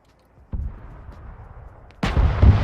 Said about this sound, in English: Some sort of tank shell.